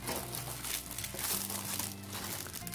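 A plastic bag holding model kit sprues crinkles and rustles close up, steady handling noise with a soft crunchy texture throughout.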